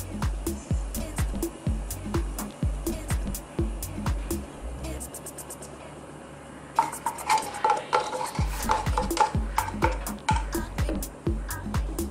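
Metal spoon scraping and clinking against a pot while stirring Maja Blanca mixture after condensed milk is added, a steady rhythmic series of close, sharp knocks with a brief pause midway.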